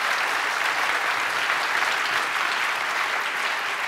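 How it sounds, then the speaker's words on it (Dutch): An audience applauding at a Dutch public lecture and performance event, dense continuous clapping from a large crowd, loud and even for the whole stretch. "Nog even een hartelijk applaus voor Max van Duin en Arie Verhagen."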